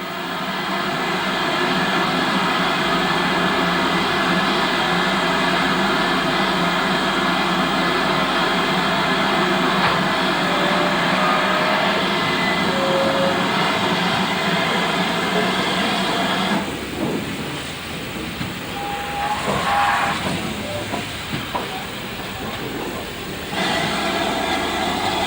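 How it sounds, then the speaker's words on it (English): A steam tank locomotive, number 4277, on a heritage line across the North Yorkshire Moors, drawing slowly towards the buffer stops at a station, with a steady loud rumble and hiss of moving rail stock throughout, no voices. "the tank loco draws towards the buffer stops in order to run round its train"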